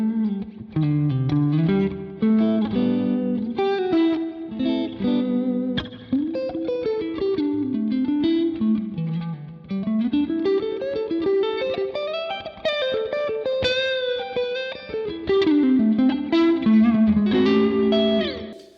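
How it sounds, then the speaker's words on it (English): Electric guitar through a Line 6 Helix patch with spring reverb, playing a continuous melodic lead with bends and slides over chordal backing, clear and upfront with a light springy ambience and no talking. "So I'm using a spring reverb on all of the patches"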